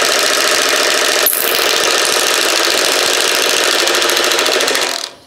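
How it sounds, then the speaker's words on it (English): An impact wrench hammers at a stuck, rusty nut that was heated with an induction heater. It gives a loud, continuous rapid rattling close up that runs for several seconds and then cuts off abruptly. "Now we're going to take an impact to it, see if we can remove this nut."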